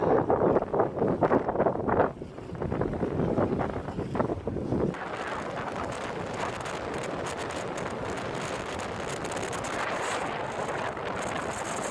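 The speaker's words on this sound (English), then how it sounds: "Windy rain." Wind gusts buffet a fishing boat on the Indian River, loud rushing at first and then a steady hiss of windy rain across the hull, with no talking.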